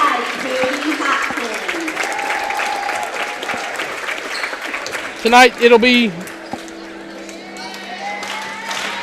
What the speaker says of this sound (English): as the crowd stands to greet their Lady Bobcats to the floor in a nice crowd for a Tuesday night